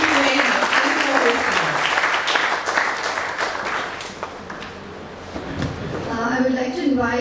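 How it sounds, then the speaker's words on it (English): An audience at an inaugural ceremony on the MCNUJC Bhopal campus bursts into dense applause that thins out and fades, then a voice speaks briefly as the clapping trails off. "A big round of applause for the MCNUJC."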